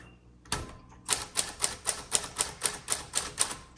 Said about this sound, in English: So, wow, excellent typing machine.